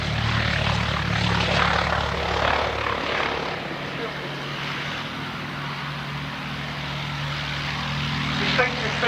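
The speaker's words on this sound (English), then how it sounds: "A little bit of Mercury magic with the Gloucester Gladiator to be quickly followed by the Westland Lysander" A Gloster Gladiator biplane with a Bristol Mercury radial engine drones steadily at an air show, a broad, rumbling propeller roar at moderate distance. The engine note swells slightly toward the end, with a commentator talking over it throughout.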